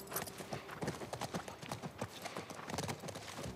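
Horse hooves clip-clop steadily and close by in The Last of Us Part I, a dense run of sharp hoof strikes on a woodland trail with no pause between them.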